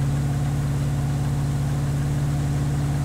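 A steady, droning engine of a Mahindra Scorpio N in GTA 5 holds at one constant pitch, loud and close, with no change in revs and no voices.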